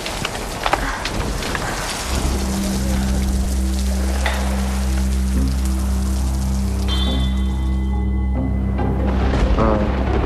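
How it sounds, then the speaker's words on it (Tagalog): Steady, heavy rain pours and patters on surfaces with a constant hiss, a low hum underneath and a few brief voices. "malakas ang ulan, Eden."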